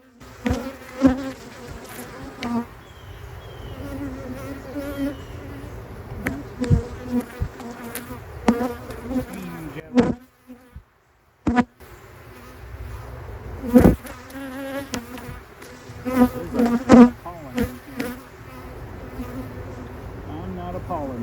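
Honey bees, drones among them, buzz loudly and close during a hive inspection, with droning wingbeats rising and falling and brief gaps as frames are handled.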